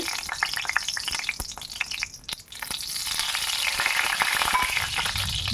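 Whole cumin seeds hit hot oil in a wok, erupting into loud, close crackling and sizzling that settles into a steady frying hiss with occasional sharp pops and stirring sounds.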